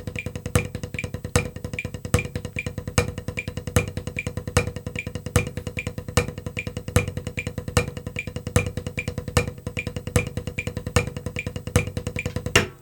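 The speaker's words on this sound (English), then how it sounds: "a triple paradiddle, 1 accent per hand" On a drum, a triple paradiddle is played with one accent per hand: a fast, even stream of close strokes, with loud accents landing regularly on beats one and three throughout.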